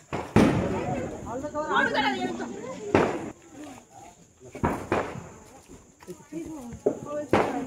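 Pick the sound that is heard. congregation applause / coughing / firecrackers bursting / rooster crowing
firecrackers bursting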